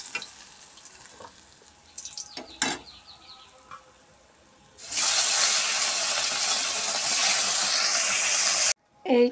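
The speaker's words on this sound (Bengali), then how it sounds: "এরকম করে সবগুলো মাছ ভেজে নেব" Fish frying in oil in a pan: quiet handling clatter and a few knocks first, then a loud, bright sustained sizzle as the fish hits the hot oil, cut off abruptly before a short final burst.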